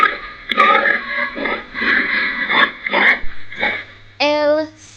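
A pig on a farm grunts in a rhythmic series of short, rough snorts, closing with a brief higher squeal.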